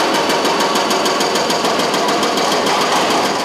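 Construction machinery at the Minzu Road bridge works gives off a loud, steady rapid hammering rattle, like a jackhammer or breaker pounding continuously throughout.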